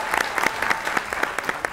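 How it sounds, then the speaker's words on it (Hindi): Brief burst of loud audience clapping in a TV talk show studio, a steady patter of many hands with faint crowd murmur. "जोरदार ताली"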